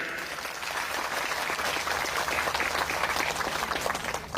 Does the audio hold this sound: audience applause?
yes